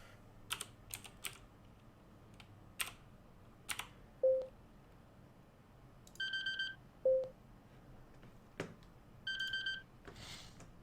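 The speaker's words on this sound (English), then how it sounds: "are you guys hearing those beeps?" Short electronic beeps sound during an online poker cash game, some as single low tones and some as paired higher chirps, mixed with intermittent keyboard typing. No one speaks.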